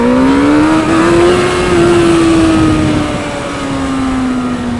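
A motorcycle engine revving high while pulling a wheelie, one loud sustained tone climbing, holding and then slowly dropping, close and continuous with no talking.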